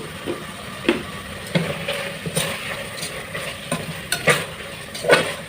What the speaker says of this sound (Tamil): இப்போ கொஞ்சமாக உப்பு சேர்த்துட்டு கலந்து விட்டுடலாம்